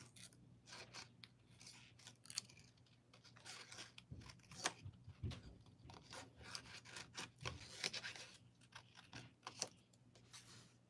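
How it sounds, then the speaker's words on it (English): Scissors fussy cut paper for a craft in repeated small snips and rustles, quiet and close, irregular in rhythm with no voices. "All right, so then I'll just fussy cut this little bit."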